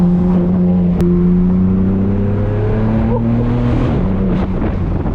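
A straight-piped BMW M4 F82 roars loudly and close, its exhaust drone sliding through pitch as the revs change, with rough burbling crackles breaking in over the steady howl.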